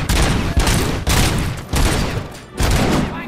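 Heavy gunfire from the shooter game Robocop: Rogue City during a bank heist, loud dense bursts of shots in three or four rapid volleys with brief pauses between, no talking.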